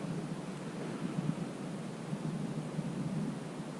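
Outdoors on hunting land, a steady wind from the west rushes and buffets the microphone. The roar is continuous, with small gusts and no voices.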